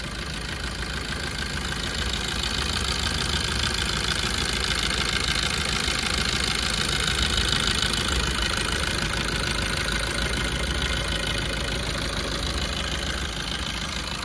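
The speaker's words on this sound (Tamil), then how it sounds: "இந்த சியாஸோட இன்ஜினை வந்து பார்த்தீங்கன்னா நான் ஸ்டார்ட் பண்ணி முடிச்சிட்டேன்" A Maruti Suzuki Ciaz car engine idles steadily for the whole stretch, an even mechanical drone with a faint ticking texture, heard nearby with no talking.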